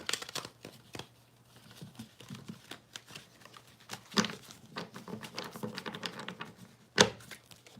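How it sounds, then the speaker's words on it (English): Soft, irregular papery riffling and slapping of tarot cards being shuffled, with a few sharper snaps, close up and with no talking. "The cards are not wanting to shuffle tonight."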